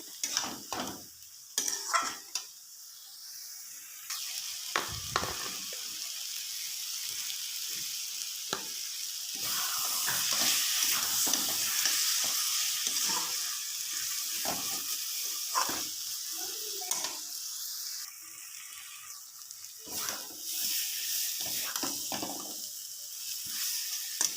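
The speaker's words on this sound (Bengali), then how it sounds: "এই পর্যায়ে দিয়ে দিন এবার সিদ্ধ করা আলুগুলা এগুলো দিয়ে আবার ভালো করিয়া একটু কষানো হবে" Boiled potatoes sautéed in a pan for aloo dum, a steady hissing sizzle running throughout with intermittent scraping and stirring strokes, close and fairly loud, with no talk.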